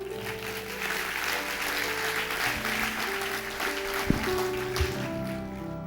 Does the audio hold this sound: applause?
yes